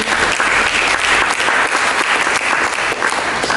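A church congregation claps loudly and continuously, a thick, even wash of many hands close by with no break for several seconds.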